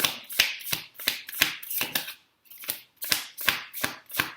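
Tarot cards being shuffled by hand: a run of sharp, crisp riffling snaps, about ten quick bursts at an even pace with one short pause in the middle, close up and fairly quiet, with no talking.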